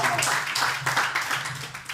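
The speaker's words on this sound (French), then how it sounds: "Est-ce qu'on peut applaudir pour le Seigneur?" A church congregation claps for a couple of seconds at a worship service, lively uneven clapping with some voices mixed in.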